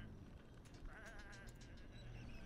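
Faint goat bleat from the video game Whateverland, a short wavering cry over a busy low rumble of game background sound.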